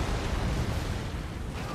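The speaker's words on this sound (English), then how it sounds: "Mortars incoming!" Continuous heavy blast noise from mortar explosions in the video game Gears of War 3, a dense, roaring wash at steady loudness throughout.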